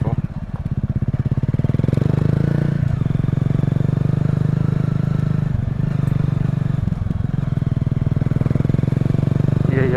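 A Honda CRF250L motorcycle rides a dirt road on a mountain route. Its single-cylinder engine drones loud and close at a steady, chugging pace, with faint rattles over the running motor.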